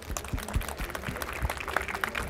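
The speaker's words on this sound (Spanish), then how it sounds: "vamos a darle un fuerte aplauso" Audience applause at a Spanish-language information security conference talk, a steady patter of clapping that carries on evenly from start to finish at moderate distance.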